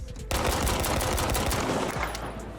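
Close, loud pistol fire in Battlefield 5: a dense run of sharp shots in quick succession for about two seconds, then tapering into a lingering rumble.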